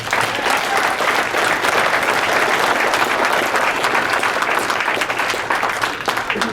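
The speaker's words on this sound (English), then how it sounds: "give him applause, please." Audience applause at the 2011 Sol Lipkin Award presentation for Billy Mays, a sustained, loud, even roar of many hands clapping that holds steady for several seconds with no talk over it.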